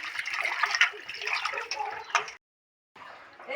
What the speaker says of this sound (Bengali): এই যে লবণ দিয়ে এখন মাছগুলো ধুয়ে নিচ্ছি